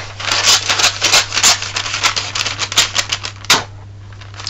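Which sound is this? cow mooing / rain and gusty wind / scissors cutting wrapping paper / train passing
scissors cutting wrapping paper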